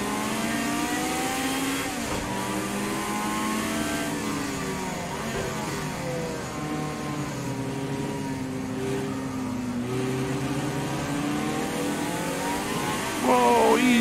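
A Ferrari race car engine in a VR racing game revs and accelerates continuously, its rising and falling whine shifting through the gears close up, with faint talk beneath and a sharp burst of revving at the very end.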